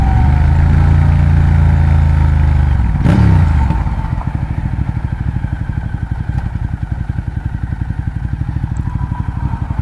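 A 2012 Ducati Diavel motorcycle with a Termignoni exhaust, loud and close, revving then dropping to a deep, rapid, throbbing idle that pulses steadily.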